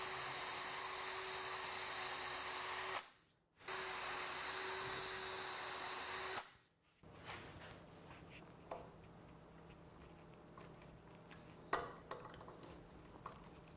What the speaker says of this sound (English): I'm going to take this opportunity to go ahead and pre-drill and install the screws